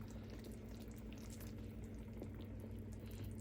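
Pot of chicken soup with soy sauce simmering, a quiet constant bubbling with a low steady hum beneath it.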